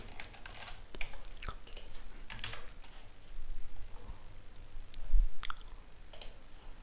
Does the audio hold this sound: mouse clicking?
yes